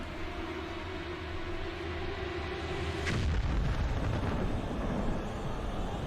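Large artillery shell explosion in the game Metro: Last Light, a sudden loud blast about midway that rolls into a long, heavy rumble over steady background noise.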